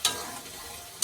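Spice paste sautéing in oil in a small home kitchen pan, a brief steady sizzle lasting about a second, framed by two short scraping stirs at the start and end.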